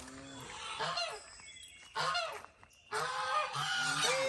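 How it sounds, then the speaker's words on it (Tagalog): Geese on a backyard poultry farm honk loudly and nearby in three separate bursts of harsh, nasal calls with brief quieter gaps between them. "Okay, yung mga gansa."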